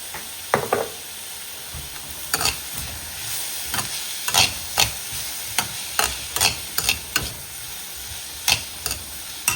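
Onions fry in a pan for a chicken gravy, a soft steady sizzle broken by repeated scraping, knocking stirs of a spoon against the pan.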